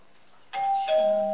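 A doorbell chimes twice, a bright higher tone followed by a lower one that rings on, close and clear in a quiet room.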